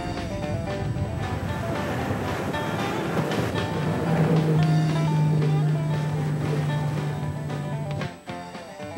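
A boat picks up speed heading out of Snake Creek near Islamorada in the Florida Keys toward a 1733 galleon wreck site; loud, steady engine drone and water rush fill the whole stretch, with a sustained low hum mid-run.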